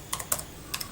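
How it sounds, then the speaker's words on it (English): Keys clack on a wireless computer keyboard in a few soft, quick taps spaced apart, close but quiet, with no voices. "So, start typing."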